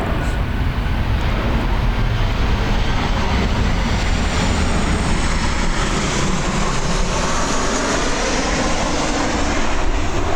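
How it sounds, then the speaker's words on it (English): A Delta airliner passes low overhead, a loud, steady jet roar that fills the whole stretch without fading, broad and rumbling with no talk over it. "We're going to pause because we have an airliner flying over"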